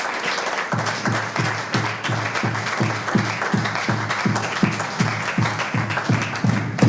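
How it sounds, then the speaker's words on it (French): A congregation at a church seminary service applauds steadily and loudly, a dense wash of clapping with a rhythmic pulse of unison beats throughout, and no speech over it. "Acclamons très fort la parole de Dieu."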